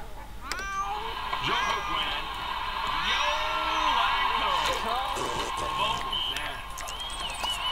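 Cats in The Sims 2 growl, meow and yowl at each other in a steady run of rising and falling cries, loud and close, with a game music bed underneath.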